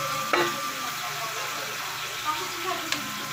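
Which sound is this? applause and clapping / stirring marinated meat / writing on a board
stirring marinated meat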